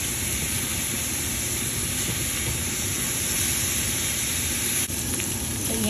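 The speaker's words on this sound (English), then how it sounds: "ilagay natin yung ating pork belly. Maglagay tayo ng butter" Pork belly fries in butter in a pan with a dense, steady sizzle and hiss that fills the whole stretch, loud and close, with a faint clink near the end and no speech.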